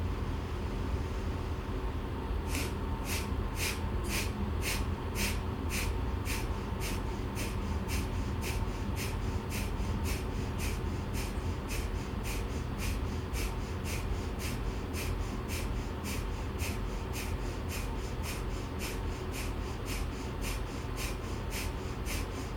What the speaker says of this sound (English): For your breath of fire,